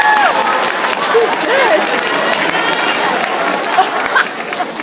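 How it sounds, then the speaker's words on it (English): An audience applauds after singing along, with broad sustained clapping mixed with crowd chatter and a few high whoops or whistles, steady and loud from start to finish. "Give yourselves a round of applause."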